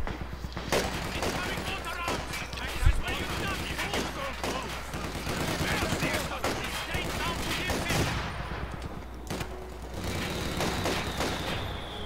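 Gunfire and mortar fire in a World War II strategy video game, with bursts of rifle and machine-gun shots and occasional booms crackling continuously under game sounds, a sharp loud blast near the third second.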